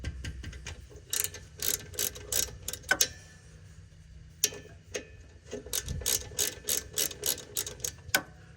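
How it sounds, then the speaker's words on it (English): A ratchet loosens bolts on a brake line of a Jeep YJ with a swapped Ford 8.8 axle, giving bursts of rapid close clicking separated by short pauses, with no speech. "So loosen up these two bolts."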